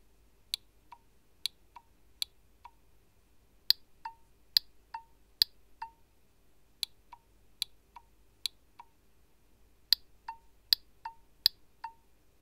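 Reed relays switching inside a K3418 photo-pulse unit from an elevator control system, with nothing connected externally; sharp, quiet clicks arrive singly and in quick pairs at irregular intervals over a near-silent background.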